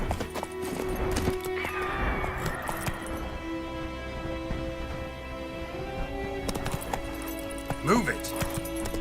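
Horse hooves clip-clop at a steady gallop in a medieval fantasy role-playing game, carrying on beneath game music and other in-game sounds, with a voice talking over them.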